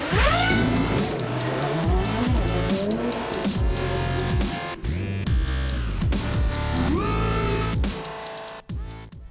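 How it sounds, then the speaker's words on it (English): Remo Hobby SMAX 1/16 scale 4WD mini RC monster truck driving on a playground, its electric motor whining up and down in repeated bursts of acceleration, close and loud, without talk. "This is a little Remo hobby 1/16 scale 4-wheel drive truck"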